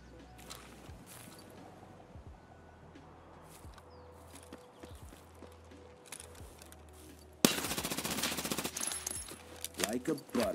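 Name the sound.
gunfire in the video game Escape From Tarkov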